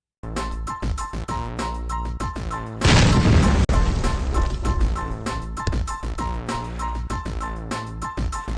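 A dead whale bursts open on a seashore, a sudden loud, heavy boom followed by a noisy, crashing wash of sound over continuous background music.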